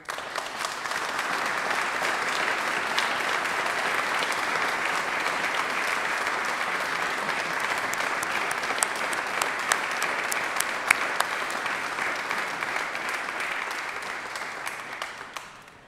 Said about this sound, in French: je voulais qu'on vous applaudisse chaleureusement